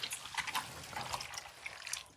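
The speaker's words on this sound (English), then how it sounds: "That is a sound of pure orange juice." Oranges are squeezed by hand to make juice, giving faint, close, wet squishing and dripping sounds in scattered soft bursts, with no talking.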